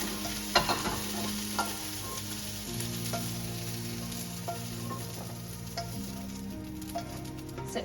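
Vegetables sizzle in a hot pan as they are stir-fried, a steady frying hiss broken by scraping stirs and light clatters of the utensil, close up with no talking.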